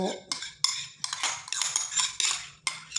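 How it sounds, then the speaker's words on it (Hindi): A spoon clinks and scrapes against a bowl as cream and yogurt are added, with a few sharp taps and soft clatter in a quiet kitchen. "अब मैं जो है वो ये क्रीम और दही डालूँगी"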